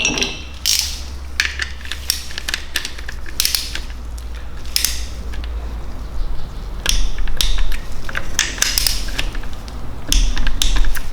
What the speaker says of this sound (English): I'm going to tighten up these two bolts to 10 Newton meters